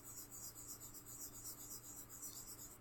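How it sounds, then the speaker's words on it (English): Vine charcoal dragged lightly across paper gives a faint, steady scratchy rub, quiet and close, with no voices. "when you draw on a piece of paper with it"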